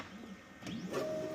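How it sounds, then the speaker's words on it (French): A Nidek ICE-1 lens edger tracing a demo lens gives off a soft motorized whir with rising and falling tones, quiet and steady and heard alone. "Et la machine va le palper directement."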